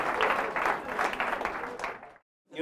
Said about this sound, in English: You better clap your fucking asses off.